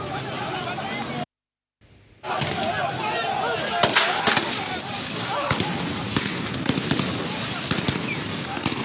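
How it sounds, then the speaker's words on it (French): Gunfire at a street protest in southern Algeria: sharp cracks and pops ring out repeatedly amid crowd noise and shouting, loud and close, with a brief gap of silence early on. "Vous avez entendu les tirs."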